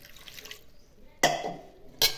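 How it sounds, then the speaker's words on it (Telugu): Water is poured into a cooking pot holding cucumber for boiling, heard as a couple of short, close splashing bursts with a metallic ring between quieter moments. "ఇలా గిన్నెలో వేసుకొని కొంచెం నీళ్ళు పోసుకుందాం."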